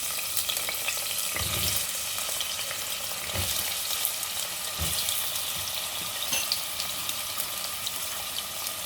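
Potatoes frying in hot oil in a pressure cooker for Sindhi-style aloo methi, a steady close sizzle and hiss with a few low thuds as the pieces shift, no talking.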